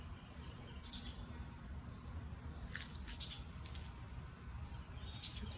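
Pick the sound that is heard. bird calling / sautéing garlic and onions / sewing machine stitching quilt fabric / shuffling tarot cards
bird calling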